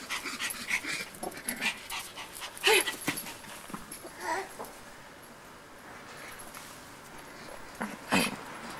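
A dog panting and snuffling nearby, with quick breathy puffs, a few soft whimpers and clicking sounds, fairly quiet overall.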